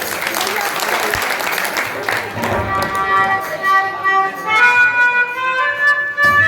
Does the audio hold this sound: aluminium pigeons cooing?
no